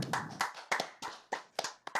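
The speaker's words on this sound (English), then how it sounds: "let's go ahead and stop the applause though" Sparse, scattered hand claps from a small group, about eight sharp taps spread irregularly over two seconds, fairly quiet with no voices.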